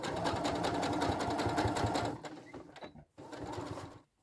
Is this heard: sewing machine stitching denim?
yes